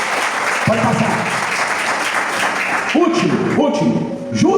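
Church congregation applauding during a worship service, with dense clapping under the voice of a preacher speaking and a few thumps and tonal accents cutting through.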